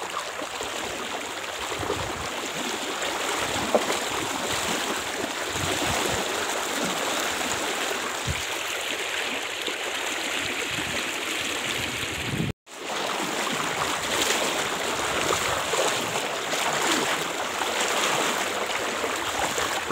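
Steady, close rushing of river water around someone wading across a fairly deep river near limestone hills, a constant broad wash with occasional splashes and a brief dropout midway, with no talk.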